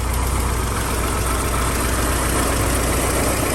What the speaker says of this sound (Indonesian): Yang penting mesinnya masih halus dulu.